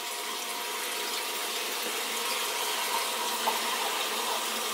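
A Bolton Tool CS 3.4 coolant pump pushes coolant in a steady, hissing liquid flow, an even, unbroken rush with no voices.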